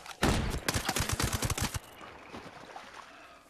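Automatic gunfire from the video game Ghost Recon Breakpoint rattles out in a rapid, loud burst of shots lasting about a second and a half. A quieter hiss of background game ambience follows.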